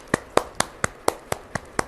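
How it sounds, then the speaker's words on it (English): A single person claps eight times at a steady, brisk pace, the sharp claps close and clear over a quiet room. "So I'll first clap for all of you."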